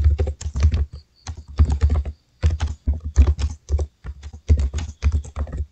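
Typing on a computer keyboard while writing a letter in Microsoft Word, a close, steady patter of key clicks in quick bursts separated by short pauses, heard alone without speech.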